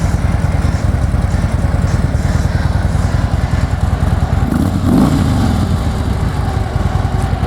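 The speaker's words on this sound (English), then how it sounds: "Right off and let you give it a listen. Runs pretty quiet. It's got the factory exhausts." A Harley Davidson Street Glide FLHX on factory exhausts idles steadily up close, its loud, even pulsing lumping briefly in the middle before it settles back into the same rhythm.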